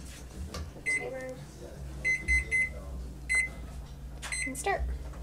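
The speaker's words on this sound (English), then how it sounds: "I'll just set my timer for a few extra minutes." A kitchen oven timer beeps in short repeated tonal bursts as it is set during preheating, several clusters of beeps over steady low hum and faint background noise.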